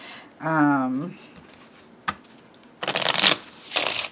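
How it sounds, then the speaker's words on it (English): Kipper playing cards with a stiff cardstock being shuffled up close, two bursts of crisp riffling toward the end after a short stretch of talking. "They shuffle really nice."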